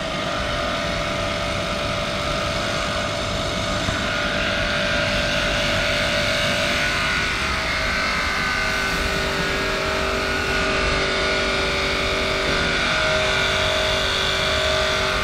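A 3hp electric high-pressure washer runs with a steady, loud mechanical whine and hum that holds throughout without pause, alone with no talking.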